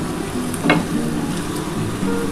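Rita fish chilli sizzling in a pan, a constant hiss of frying oil with a brief louder stir or scrape partway through, close and alone without talk.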